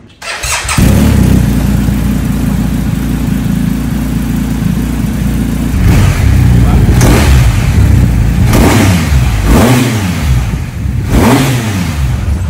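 A BMW GS motorcycle engine idles steadily, then revs up sharply several times in loud, rising bursts, close by with no one talking.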